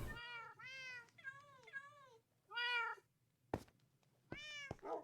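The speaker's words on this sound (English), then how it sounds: "I just have 20 cats in here now." Several cats meowing in Minecraft Bedrock, a series of clear, separate mews, some rising and falling, spaced with short pauses, alongside a few sharp clicks and a faint low hum.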